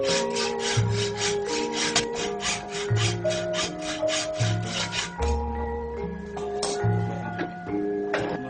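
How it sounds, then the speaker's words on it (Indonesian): A hand saw cuts into the base of an iron keris blade with steady back-and-forth strokes, roughly one per second, each rasping pass carrying a faint metallic ring. "Pembentukan bagian beksi diawali dengan menggergaji pada pangkal bilah."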